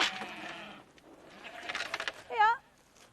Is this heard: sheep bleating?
yes